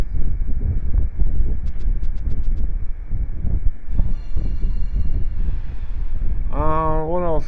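Rumbling rail noise from the giant train at Mount Hand in the game Thousand Arms, a steady low clatter and drone throughout, with short chiming game tones and a rising synthetic sweep near the end.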